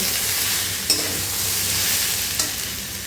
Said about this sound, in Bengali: এটা আবার টমেটোটা গলা অবধি একটু কষিয়ে নেব